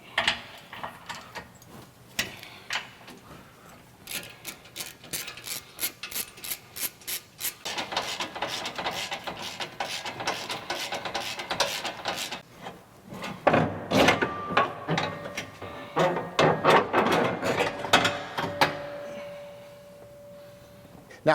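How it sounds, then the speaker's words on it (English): Rapid ratcheting from a 13mm socket ratchet backing bolts out of a factory cross member under a Jeep JT diesel, bursts of quick clicking separated by pauses, close and fairly loud. "We're going to remove the 2 bolts here, which will allow the cross member to slip out."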